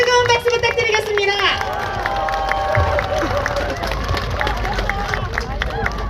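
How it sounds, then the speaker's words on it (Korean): A crowd at an outdoor election campaign rally claps and cheers, a dense wash of applause and shouting mixed with loudspeaker music and voices. "훌륭한 연설해 주신 우리 나경원 공동위원장님께 다시 한번 뜨거운 박수 부탁드리겠습니다"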